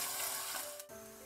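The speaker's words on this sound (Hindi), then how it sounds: "प्याजों को हमने ज़्यादा गोल्डन ब्राउन नहीं करना, बस हल्का सा इसे हमने फ्राई करना है" Onions lightly frying in a pan over a medium flame, a steady close hiss of sizzling that dips briefly before resuming.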